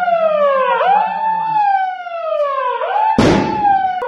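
A wailing civil-defence siren sounds during a mock emergency drill, its loud tone sliding up and down in long sweeps before a sudden sharp burst of noise near the end.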